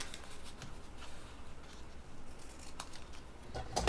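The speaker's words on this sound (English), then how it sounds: "then I'm going to trim off the other long side" Scissors trim recycled paper strips during basket crafting, with several soft, quick snips and paper rustling at low volume and no voices.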